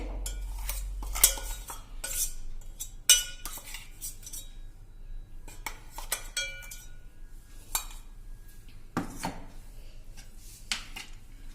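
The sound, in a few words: stirring garlic paste into oil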